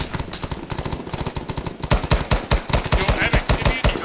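Medium machine guns firing in a video game, loud rapid bursts of close automatic fire in a fast rhythmic stutter that grows more intense partway through.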